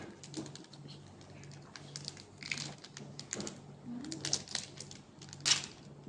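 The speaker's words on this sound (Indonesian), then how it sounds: "kemudian kita buka kemasan plastiknya" Plastic packaging holding an IUD is opened on a hard, flat table, giving faint, irregular crinkling and crackling with small clicks, fairly quiet and close, with a low steady hum underneath.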